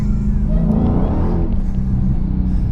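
A 2020 Dodge Challenger Hellcat Redeye Widebody with a supercharged 6.2-litre V8 accelerating hard nearby, a loud deep engine roar rising in pitch and holding steady.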